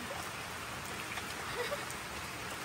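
Rain falling outdoors, a soft, faint, steady patter of drops on surfaces, fairly distant and even, with a brief louder bump at the very end.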